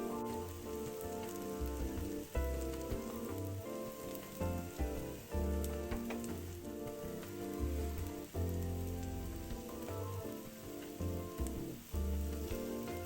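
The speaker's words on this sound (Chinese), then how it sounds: "一直油煎至表面金黄微焦，外脆内软" Tapioca cake pan-fries in oil, producing a dense, continuous crackling sizzle like rain on a surface, close and steady throughout, with rhythmic low thumps and some faint background music underneath.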